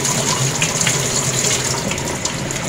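Water steadily draining and gushing from a homemade rotating flow turbine, a continuous close, fairly loud rush of flowing water with no talking.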